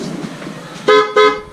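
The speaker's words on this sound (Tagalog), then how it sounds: "PIA horn." A newly installed PIA horn on a Honda Click scooter honks twice, loud and close, in two short bright blasts after faint background sounds.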